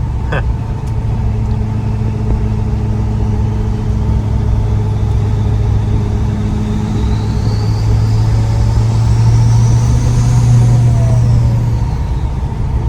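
A 2018 Ford F350 with a 6.7 diesel and compound turbos accelerates, producing a steady loud low engine drone with a rising turbo whine, heard from inside the cab.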